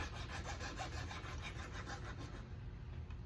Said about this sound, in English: So I just use a simple metal file here.